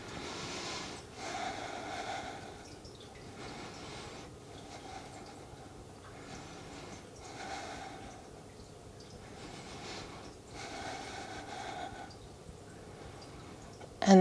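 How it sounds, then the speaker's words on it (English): Slow, rhythmic breathing during a strap-assisted yoga stretch, a steady cycle of soft inhales and exhales repeating about every two seconds, close and quiet with no talking. "And breathe here. Take a couple of breaths."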